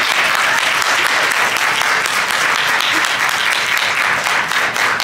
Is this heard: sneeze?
no